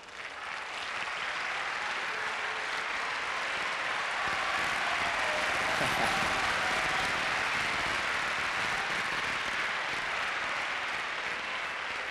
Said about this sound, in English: A rousing cheer.